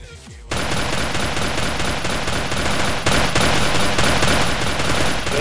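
Rapid gunfire in the video game MTA DayZ, a dense, loud, continuous burst of automatic shots that starts abruptly after half a second of quiet and runs throughout.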